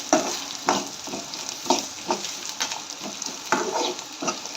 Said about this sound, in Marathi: हे सर्व खोबरं आणि जे कांदा वगैरे मसाला आहे हे आपल्याला लालसर होईपर्यंत भाजून घ्यायचं आहे, खरपूस असं भाजून घ्यायचं आहे